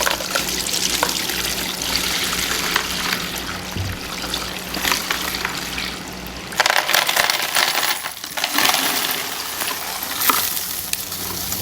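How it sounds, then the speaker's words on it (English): Water and tumbling media poured slowly over brass .223/5.56 rifle cases, giving a close, continuous splashing trickle with small metallic clinks and rattles of the cases throughout. "let's pour our water and media into this. Pour it slow because it will splash."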